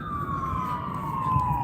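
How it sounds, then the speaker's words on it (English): Emergency vehicle siren passing on a road, one steady wailing tone that slowly drops in pitch as it goes by, loud and continuous over low traffic rumble. "Anytime you hear those sirens, look to get out of the way"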